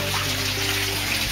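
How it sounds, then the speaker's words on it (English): Water from an aquaponics sump pours steadily through a tunnel, a dense continuous splashing rush with a low hum underneath, close and constant with no talk. "This is simply water that's coming from the sump."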